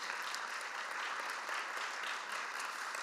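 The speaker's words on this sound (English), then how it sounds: "What about a round of applause for some excellent cheering?" A conference audience applauds at a plenary session, a steady round of clapping that fills the room evenly from start to finish, with no voices over it.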